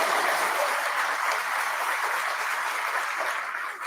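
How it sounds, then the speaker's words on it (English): Steady, dense applause from an audience at the 2024 Writers & Illustrators of the Future awards event, honoring the speaker's wife; loud and sustained throughout, easing slightly at the very end. "Yes, please clap for her."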